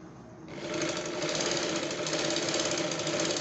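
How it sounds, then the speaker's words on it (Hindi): A sewing machine stitches the outer seam joining petticoat panels, starting after a brief pause and running at a steady, fast mechanical whir close up, loud and uninterrupted with no talk. "अब इसमें बाहरी सिलाई लगाएंगे"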